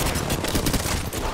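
Rapid automatic gunfire from the video game Apex Legends bursts in a dense, loud, continuous volley throughout the short moment.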